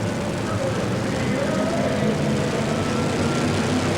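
A super modified mud racing car's Chevrolet engine revs up indoors at the Kingdome in Seattle, a loud sustained roar that blends into crowd and arena noise, with an announcer talking over it.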